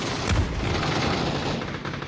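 Gunfire in PUBG during an esports scrim: a short burst of rapid shots with a booming, crackling report, fairly loud and dense over about two seconds, with no voices.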